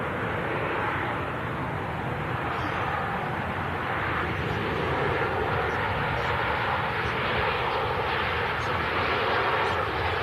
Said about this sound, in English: Ryanair just in from Pisa